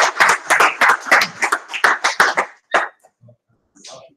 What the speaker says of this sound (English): Round of applause for the Lord.